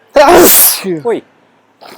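One loud, sharp sneeze bursts out, followed by a short vocal exclamation and a faint breathy sound after a pause.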